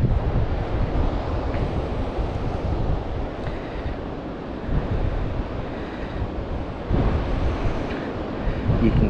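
Pounding Pacific Ocean surf at Fort Funston on the California coast makes a loud, continuous roar of breaking waves, mixed with wind rushing across the microphone.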